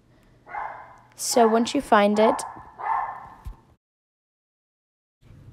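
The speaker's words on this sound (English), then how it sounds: "and that's my dog" A pet dog lets out a few quick, sharp barks close by, stacked in a short burst, while a person talks over and around them.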